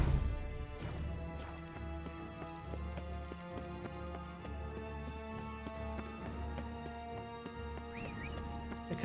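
Roach the horse trotting in The Witcher 3, a steady rhythmic clip-clop of hooves close by, with a brief whinny and game music underneath.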